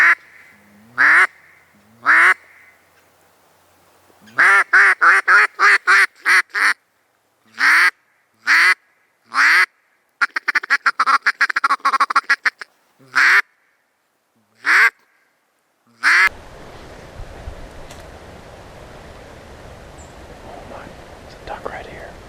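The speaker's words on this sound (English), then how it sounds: "Black duck right here just landed." Hybrid black duck on a small Virginia river quacks in a series of loud, close, evenly spaced calls, some in rapid bursts, followed by quiet water and ambient noise with soft whispering.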